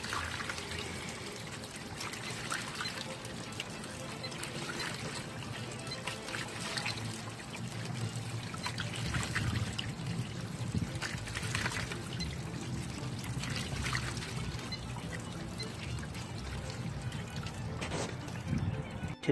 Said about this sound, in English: Okay, so all the water is drained out